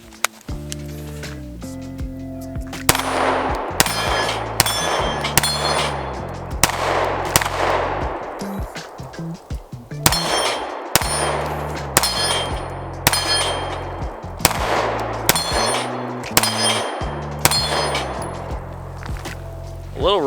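A BUL Armory SAS II Ultralight compact pistol fires repeated strings of sharp, loud shots, each followed by a ringing metallic clang from a steel plate tree, with short pauses between strings.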